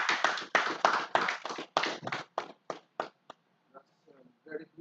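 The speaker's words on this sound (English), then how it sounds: "Can we give her a round of applause?" Applause from an audience at a retreat for basic education staff, a burst of claps that tapers off over a few seconds into scattered claps and quiet murmur.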